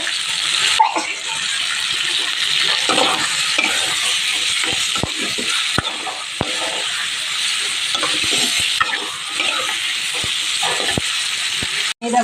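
A spatula scrapes and stirs spiced curry with cumin, coriander powder and Kashmiri red chili, which sizzles and fries steadily in a pan, with a constant loud hiss and frequent scraping strokes close by.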